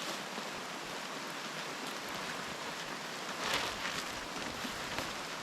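Rain falls steadily on a cabbage field, a dense, even hiss of drops that continues without a break and with no voices over it.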